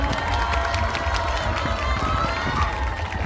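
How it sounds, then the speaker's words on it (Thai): Audience applause at a student marching band contest in Chiang Rai, a dense, steady wash of clapping and crowd noise filling the whole stretch at a loud, even level. "ขอเสียงปรบมือให้กับน้องๆอีกครั้งหนึ่งครับ"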